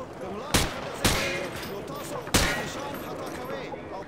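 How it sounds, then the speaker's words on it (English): A few loud, sharp gunshots ring out at a firing range in Call of Duty: Modern Warfare 2, three spaced reports with reverberant tails, while a voice talks underneath. "Turn around and fire at the targets."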